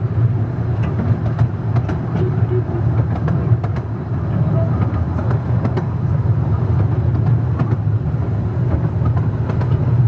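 A steam train rolls past in the Lake District, heard as a continuous low rumble with faint rhythmic clatter and occasional clicks, steady and fairly loud throughout the ten seconds.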